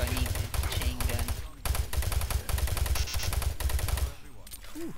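Rapid bursts of chain gun fire in the shooter game Doom 3, a dense mechanical rattle of shots in several sustained volleys with brief pauses between them, loud and close.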